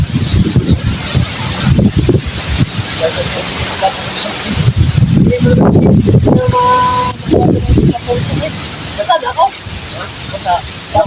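Gusty wind buffets the microphone in uneven rumbling bursts, with people talking under it and faint outdoor background noise while workers split and lay bamboo outdoors.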